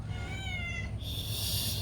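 A cat meows once at close range, a drawn-out harmonic cry with no one talking over it.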